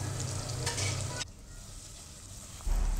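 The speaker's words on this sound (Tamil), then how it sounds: "தக்காளி சேர்த்து நல்லா வதக்கிக்கலாம்" Tomato sautés with ginger garlic paste in a pan, giving a loud, steady close-up sizzle with stirring scrapes. The sizzle eases partway through and then swells again near the end, with no talking.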